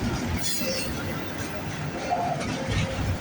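A Canadian Pacific freight train rolls past with its auto rack cars, giving a steady rumble, clanking and faint wheel squeal, while someone talks nearby.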